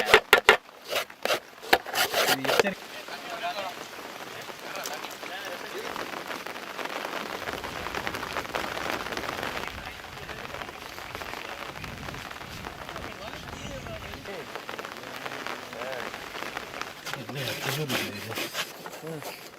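Steady hiss and patter of light rain falling on a surface, with a few sharp knocks at the start and near the end.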